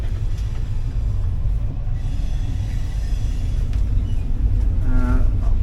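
Steady low rumble inside a new passenger train coach in motion, continuous and fairly loud, with a brief faint higher tone near the end and no talking.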